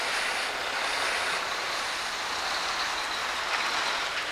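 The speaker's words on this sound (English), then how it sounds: "You can see as the truck goes down the road," A truck rolls down a narrow residential street, a steady broadband rumble and hiss of engine and tyres holding at an even level, with faint high squeals that suggest brakes.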